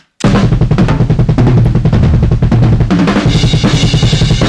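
A drum loop passed through a lo-fi bit-crushing effect in Reaper, loud and gritty, with a steady repeating kick and snare pattern that starts abruptly and plays without any voice over it.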